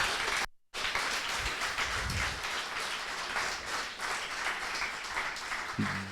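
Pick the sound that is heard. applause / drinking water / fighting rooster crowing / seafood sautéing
applause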